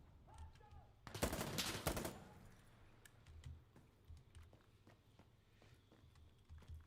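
Gunfire in the video game Insurgency Sandstorm: a loud, close burst of automatic fire lasting about a second, followed by quieter scattered shots and footsteps at low overall level.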